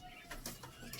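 Pigeons in a small flock coo softly in a few low, throaty pulses, faint and somewhat distant in a quiet space.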